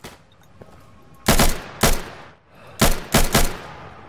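Gunfire in the tactical shooter game Insurgency: loud, close bursts of shots, two heavy volleys followed by a pause and three more in quick succession over a quiet background.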